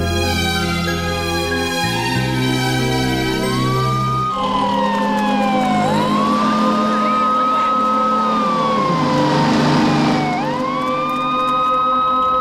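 Loud emergency siren on a road, sweeping up and down in repeated wails alongside steady tones and music-like harmonics, with no talk, fitting an ambulance passing through traffic.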